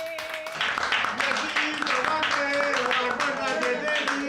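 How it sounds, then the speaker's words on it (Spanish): A small crowd at a Christmas community event in Chile claps in a loose rhythm for Santa Claus's helper. Some voices carry over the clapping while sustained tones hang underneath. "Denle un aplauso al enviado del Viejo Pascuero"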